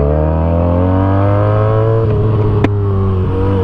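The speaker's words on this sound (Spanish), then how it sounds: "el motor italiano siempre tiene un sonido hermoso" A Benelli 302S motorcycle engine drones loud and close with a steady harmonic tone that slowly falls in pitch, running continuously with no talk.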